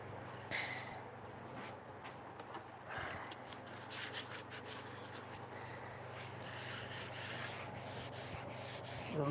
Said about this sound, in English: Let's sort of flat sand that a little bit.